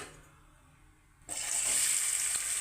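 Chopped medium-sized onions dropped into hot oil for a mutton masala curry burst into a loud, steady sizzle after a second of near quiet, hissing on close by without pause.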